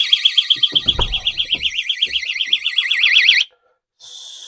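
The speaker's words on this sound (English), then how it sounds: "that alarm's going to go off and scare the crap out of them" A portable door stop security alarm shrieks loudly and close, a warbling high-pitched siren that pulses rapidly for over three seconds, cuts out briefly, then resumes, with a door knock and clatter underneath at the start.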